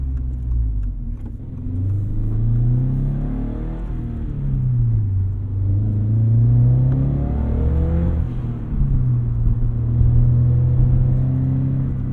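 Engine of a 2022 Subaru BRZ revving while driving, a steady mid-pitched rumble that rises and falls through gear changes, loud and close with no talking.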